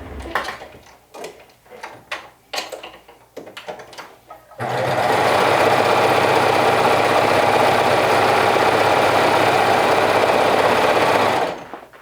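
A sewing machine runs in one steady, loud burst lasting about seven seconds as it topstitches a sleeve seam allowance. Scattered handling clicks and rustles come first, and the motor cuts off abruptly at the end.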